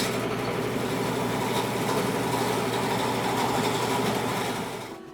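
Steady whirring drone of a lathe turning a balanced wooden bandsaw wheel for a homemade sawmill, continuous and close with a rough buzzing texture, fading slightly at the very end.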